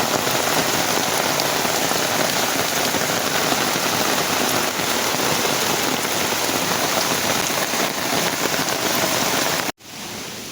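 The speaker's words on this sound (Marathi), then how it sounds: "पावसाने हजेर लावली आहे जोरदार" Heavy monsoon rain in the Konkan pours down as a loud, steady, dense hiss of drops drumming on surfaces, with no pause until it cuts off abruptly near the end.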